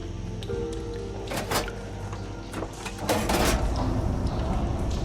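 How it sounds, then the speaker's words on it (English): Machinery clanks and shifts as the water flow is switched in the video game Horizon Forbidden West, with a few metallic clunks and grinding bursts that swell into a louder, steady mechanical rush toward the end. "Sounds like the water's switched."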